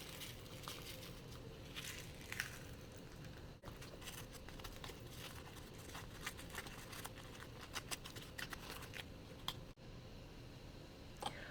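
Dried chili pods being cut open and emptied of their seeds, a dense run of close crinkling, crackling and papery rustling with small clicks and taps throughout, steady and fairly quiet.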